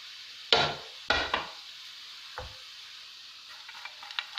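A spoon scrapes and clatters through gram flour halwa cooking in ghee as nuts are added, giving three sharp strikes and scrapes with a soft sizzle beneath and small ticks toward the end.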